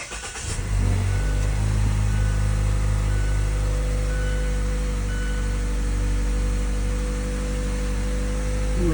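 A 2017 Mazda engine, just back from a fuel pressure sensor repair, starts and then idles loudly and steadily at a slightly high rev, with a constant close drone throughout.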